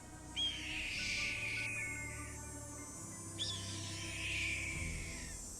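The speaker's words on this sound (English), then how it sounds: "Red-tailed hawk." A red-tailed hawk's call plays from a recording: two loud, drawn-out descending screeches, each lasting over a second, the second following about three seconds after the first, with no voices.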